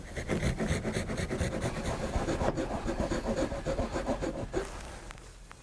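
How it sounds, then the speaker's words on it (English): Rotted wooden window sill being cut away by hand, a steady close rasping, sawing scrape that runs continuously for about five seconds before stopping. "I'm going to begin by cutting away first the damaged sill,"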